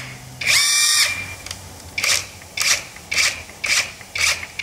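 An Avhrit AH650 cordless lug nut impact wrench runs in reverse, first a sustained whirring burst and then four short, loud hammering bursts in a quick regular rhythm, close up.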